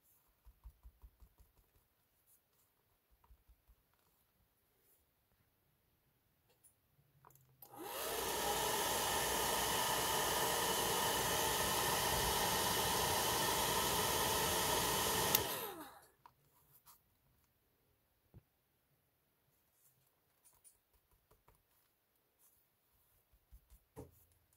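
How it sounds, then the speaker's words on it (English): A hair dryer switches on and blows with a steady loud whoosh for about eight seconds, drying glued model railroad kit door panels, then cuts off, leaving faint light tapping. "I'm going to use the hairdryer to expedite drying these door panels."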